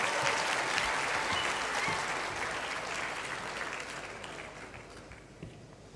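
Sustained audience applause for Jerry Yang at the 2025 African Business Heroes grand finale, a dense, steady wash of clapping from a large crowd that slowly tapers near the end.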